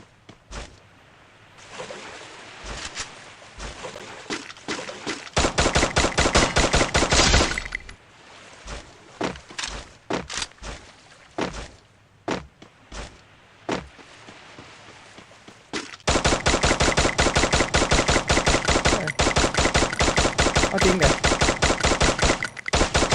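Gunfire rattles out in the shooting game Free Fire, with short scattered shots followed by two long, loud, rapid-fire volleys that drum on steadily.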